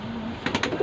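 A pigeon gives a few soft, close coos in a quick pulsing burst after a quiet moment with a faint steady hum.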